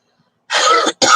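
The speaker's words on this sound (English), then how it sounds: "I'm going to start coughing like crazy" Two sharp coughs close by, a longer hacking one followed quickly by a shorter one, loud and alone.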